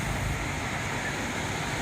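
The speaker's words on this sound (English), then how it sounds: "Not too big a wave." Ocean waves of the South China Sea roll in at Nha Trang, heard as a steady broadband surf wash with some wind, continuous and moderately loud, no voices.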